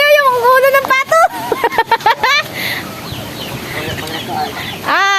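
A native chicken clucks and squawks in rapid, close bursts, then quieter rustling and scuffling follow before another loud squawk; people talk in the background throughout.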